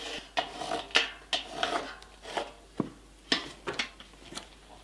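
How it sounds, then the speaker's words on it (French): Jigsaw cutting wood during the build of a dry toilet, heard as a series of short rasping strokes in an uneven rhythm, fairly quiet and close, with no talking. "Petit coup de scie sauteuse."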